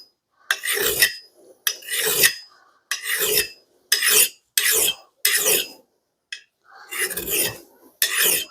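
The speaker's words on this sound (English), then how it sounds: "So this file is cutting really well" A metal file rasps across an axe head in about nine firm, evenly spaced strokes, each a loud, gritty scrape separated by short silences.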